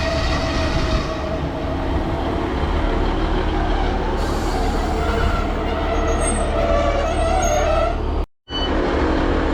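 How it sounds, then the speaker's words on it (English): A Class 150 diesel multiple unit, 150-235, pulls into a station with a loud rumbling engine and rolling rail noise. High squeals of brakes come in toward the end, with a brief dropout near the close. "here comes 150-235 returning"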